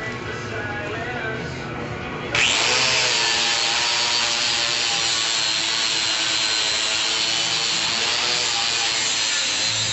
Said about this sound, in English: But anyway, I gotta grind that off, so there you go.